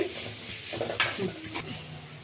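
Egg noodles fry in a pan with a close sizzle, broken by a few quick scraping stirs and clinks.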